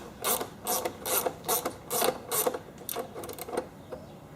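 A fastener on a throttle part of a Kohler Command V-twin engine is tightened with a ratchet, giving a close run of about ten quick rhythmic clicking bursts that slow toward the end, with no speech.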